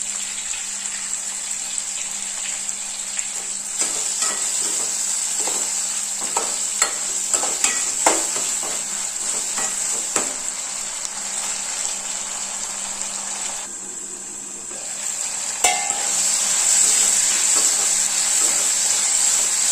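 Tomatoes cooking with salt in a pan for a fish curry, a steady sizzle with intermittent stirring scrapes, loud and close throughout.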